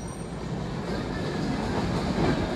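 The Ruposhi Bangla Express rolls past Jhikargachha railway station on the Benapole line in Bangladesh, giving a continuous, close rumble of wheels and carriage noise that swells slightly, with no speech.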